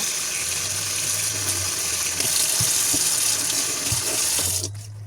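Tap water runs steadily into a sink while a silk stencil is rinsed under it, a loud continuous splashing rush with a few soft knocks before the flow shuts off near the end.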